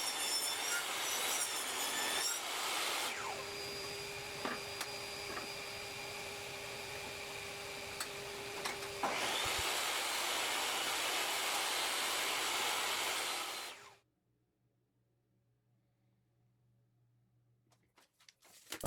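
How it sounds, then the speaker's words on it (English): Table saw cutting dados along a wood piece in two passes, a loud sustained cutting roar broken by a brief pause between passes, then the blade spins down into near silence at the end. "I'll do some quick dados all along the piece on the table saw"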